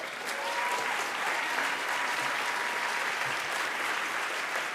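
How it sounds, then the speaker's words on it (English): Applause filling a hall at an election accountability assembly, sustained even clapping from a large audience for several seconds, heard alone without speech. "Give yourselves a round of applause, everyone."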